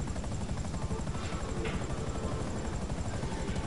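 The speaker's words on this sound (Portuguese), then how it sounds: "Cuidado pra vocês não caírem nas hélices do helicóptero." Helicopter rotors in the GTA V Online video game during a prison break, a close, loud, rapid rhythmic chopping thump that holds steady throughout with no talk.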